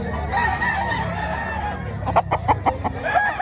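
A rooster crows and chickens cluck nearby at a poultry expo in Mantalungon, Barili, Cebu, with a run of short, sharp clucking bursts in the second half over a busy background.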